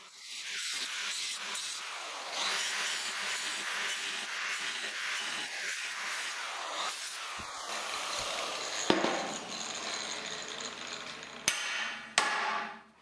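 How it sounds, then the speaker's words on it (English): An angle grinder cuts between drilled holes in a steel rear bumper for an XJ Cherokee, giving a steady, fairly quiet, harsh whir. Toward the end come a few sharp metallic knocks and brief stops. "The angle grinder was put back into action to carefully connect the drilled holes."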